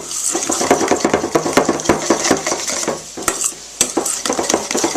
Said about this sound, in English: what we're going to do is just mix this up